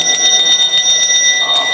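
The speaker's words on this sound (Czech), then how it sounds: "vám na konci každé pohádky zazvoní zvonec, aby byl pohádky v kanec" A small handbell rings rapidly and loudly up close, a bright repeated jingling chime that keeps shaking through the whole moment at a baroque sculpture museum event.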